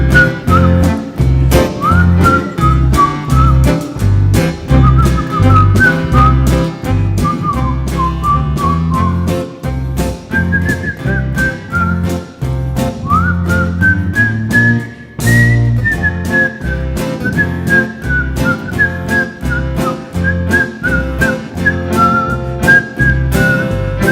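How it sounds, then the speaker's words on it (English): An audience at a concert whistles a tune together, a sustained melodic line held steadily over instrumental backing for the whole stretch, with no talk. "Help me out on this one. Whistle."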